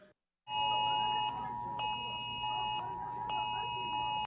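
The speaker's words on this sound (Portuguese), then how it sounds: "O texto, acompanhado de um alarme sonoro, alertava para o risco de pancadas de chuva" A loud, insistent emergency alert tone blares from a mobile phone in Rio de Janeiro, warning of heavy rain, in repeated pulses, each a harsh buzzing beep lasting about a second, after a brief silence.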